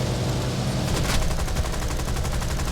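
Dense rapid gunfire bursts in War Thunder, a continuous rattling barrage with sharper volleys, loud and steady throughout.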